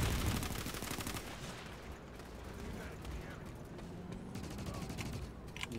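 Rapid gunfire from Planetside 2 crackles in dense automatic bursts through most of the stretch, fairly close and sharp, with a voice talking over the shooting.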